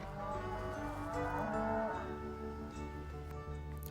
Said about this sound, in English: a faint, mournful sound of cattle mooing